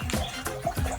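Water is poured into a cooking pot for Indomie noodles, a small amount only. A short, close splash and gurgle sounds with uneven liquid bursts.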